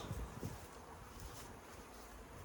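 Honey bees hum around an opened beehive on a sunny, warm day, a dense, steady buzz close to the microphone with a few soft bumps of handling noise near the start, no talk.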